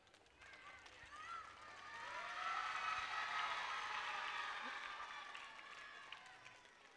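A crowd at a school annual day function applauds, with broad, diffuse clapping that swells to a peak in the middle and then slowly eases off. The sound is somewhat distant, with high tonal sounds over the top.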